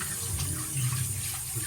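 Rice being rinsed and swirled in water by hand, with a steady watery swish and running-tap wash, close and continuous with no talking.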